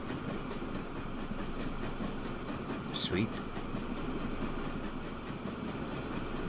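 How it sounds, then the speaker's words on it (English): Freight train passing in the UK Transport Fever 2 game: a steady rolling rumble with faint clickety-clack, heard under a man's brief speech. "Over the bridge, there is the Manchester to Leicester train heading"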